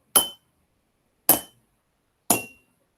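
Three separate bright clinks ring out at an even pace as a pencil strikes glasses filled with different amounts of water, each tap dying away quickly into silence.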